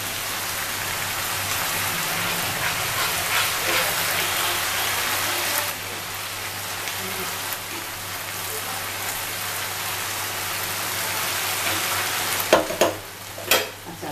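Tomato puree sizzling and spattering in a hot pan, a steady hiss running throughout with a few louder stirring clatters near the end.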